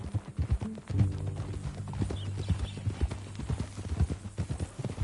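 Steady clip-clop of horse hooves at a walking pace in the video game Red Dead Redemption 2, close and rhythmic, with faint ambient background and no talking.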